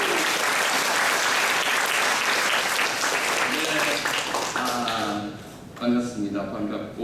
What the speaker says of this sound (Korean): 자, 다 같이 박수.